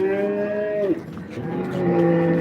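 A cow at a cattle market in Modnimb lets out one long, loud, close moo with a steady low tone that breaks off near the middle, followed by a second lowing call.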